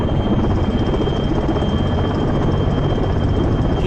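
Helicopter in an immersive rescue simulation, with a loud, steady rotor and engine roar throughout and no gaps.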